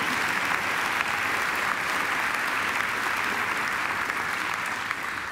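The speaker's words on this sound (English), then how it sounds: "I think she deserves another great round of applause." An audience at a Macquarie University graduation ceremony gives a sustained round of applause, dense and even throughout, sounding like a large hall of clapping hands with no break.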